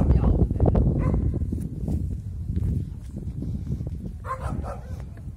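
A dog barks on the Erziping mountain trail in Taiwan, the calls mixed into a busy outdoor bed of footsteps and people talking nearby.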